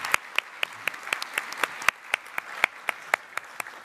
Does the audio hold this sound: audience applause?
yes